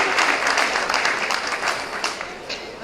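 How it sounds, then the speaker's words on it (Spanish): A crowd at an outdoor political tribute event applauds in a dense, continuous wash of many hands clapping, fairly loud and steady throughout. "un fuerte aplauso para los compañeros que se acercaron aquí"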